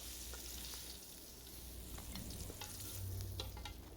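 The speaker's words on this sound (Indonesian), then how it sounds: "tuh wangi banget ya kalau digoreng-goreng begini" Dory fish frying in oil, a faint, even hiss of sizzling with occasional soft pops and light stirring ticks, continuous throughout with no voices.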